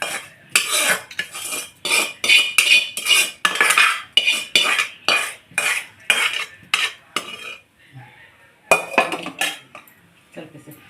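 A spoon scrapes and clanks against a pot while brown onions are mixed into mutton biryani, in a run of loud rhythmic stirring strokes, a short pause, then more scraping.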